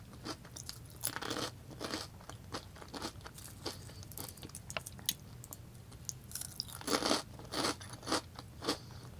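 Fried Indian snacks crunched and chewed up close, crisp irregular bites and crackly munching with short pauses, quiet and intimate, with no talk.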